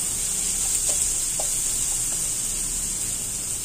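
Garlic frying in a pan while cooking Filipino chicken curry, a steady close sizzle with faint stirring clicks, no talking.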